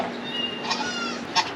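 Cats on a small dairy goat farm meow close by in a quiet setting. A short, faint mew is followed by a sharper, louder one near the end.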